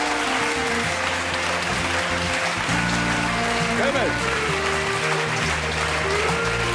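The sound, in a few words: audience applause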